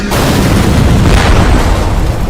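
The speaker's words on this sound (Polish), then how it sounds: "Wybuchy są satysfakcjonujące." A loud, sustained rumbling explosion blast from the Skibidi Toilet animation that fills the whole clip, dense and roaring without letup.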